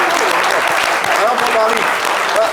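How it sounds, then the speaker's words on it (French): Audience applause on a talk show with the group Magic System, dense steady clapping from a crowd with voices heard through it. "Applaudissez pour l'argent propre."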